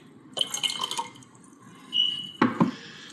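Cranberry juice poured into a glass of water, heard as a short trickle, a brief liquid run, then a couple of sharper clinks and splashes near the end, close and fairly quiet.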